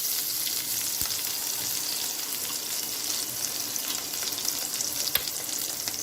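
Unsalted butter melts and sizzles in a pan for sweet buns, a steady close hiss of frying with a couple of faint clicks and no voices.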